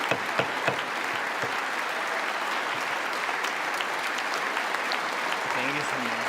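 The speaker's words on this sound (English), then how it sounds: "the president of Ukraine enters the chamber, shakes hands with the vice president, Speaker of the House, a roaring applause" Roaring applause in the congressional chamber as Ukraine's president enters for a joint session of Congress, sustained dense clapping with a few sharper claps near the start and a brief voice near the end.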